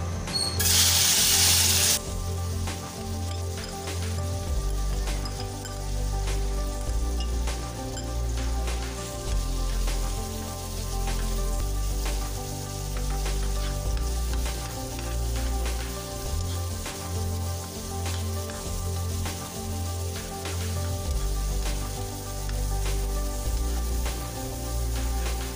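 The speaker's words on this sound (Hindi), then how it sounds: "अब इसमें जो हमने चिकन मैरिनेट किया था वो शामिल कर देंगे।" Marinated chicken hitting hot oil in a home kitchen pan, a steady sizzle with clicking, crackling bursts running throughout under a low rhythmic hum, close and fairly loud, with no talking.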